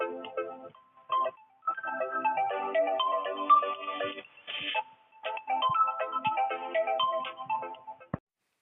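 A mobile phone rings with an incoming call, playing a loud melodic ringtone that starts and stops in several bursts across the clip, alone with no talk.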